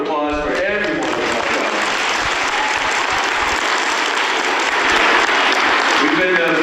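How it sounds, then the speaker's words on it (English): An audience at a school assembly gives sustained, loud applause that holds steady for several seconds and swells near the end, with voices briefly mixed in at the start. "So give a big round of applause for everyone."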